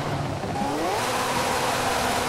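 A car's exhaust revs loudly and continuously while drifting in a video game, with the engine note rising and sweeping up in pitch, close and unbroken with no talk over it.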